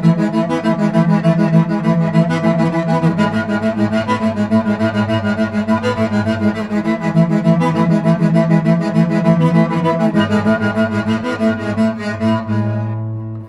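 Guitar double strings bowed with a Pickaso bow tipped back make a rich, sustained two-note drone that holds steady and full, close and loud, before fading at the end, with no voices.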